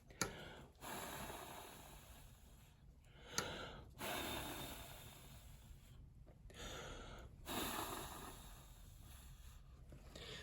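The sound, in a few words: blowing breath onto paper with invisible ink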